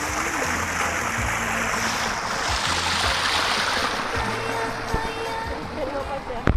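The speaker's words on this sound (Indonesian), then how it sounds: "Ini sungai alami ini." A swiftly flowing natural river or canal at Puri Mataram in Yogyakarta keeps up a constant rushing hiss of water beneath people chatting close by.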